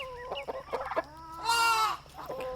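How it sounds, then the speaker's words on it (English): A rooster on a farm gives a series of close clucks followed by a louder, drawn-out crowing call, then more clucking afterward. "Watch out for this mean rooster."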